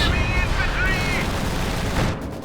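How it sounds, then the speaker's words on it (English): A Soviet quad halftrack firing into a mortar halftrack during a Company of Heroes 2 match, with rapid loud gunfire bursts layered under a caster's voice and battle noise. "Quad firing into the side, and there we go."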